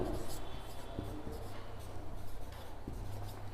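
Pen or chalk scratches across a writing surface in short strokes and taps during a Class 10 polynomial math lesson, close and fairly clear under faint background sound.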